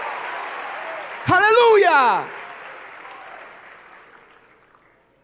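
A church congregation bursts into loud applause during a sermon, with a single strong shouted voice on top, then the clapping fades away to near silence.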